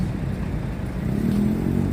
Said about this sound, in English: oh, that's a motorcycle